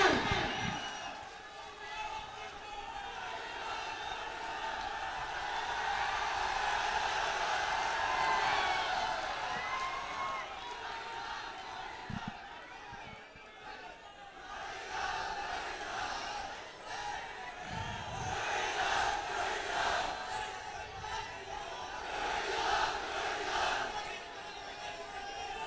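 A large rally crowd applauds and cheers for a politician, sustained clapping and shouting that rises and falls in waves, fairly distant and faint, with a voice over a loudspeaker in places.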